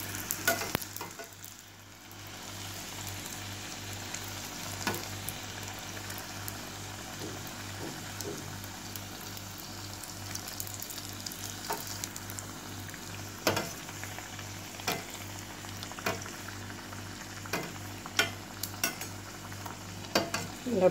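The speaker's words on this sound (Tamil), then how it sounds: "நல்லா பொரிஞ்சிருச்சு, எடுத்துடலாம்" Puris for pani puri fry in hot oil with a soft, continuous sizzle and occasional sharp pops and stirring clicks. Everything sits fairly close and quiet, and no one speaks.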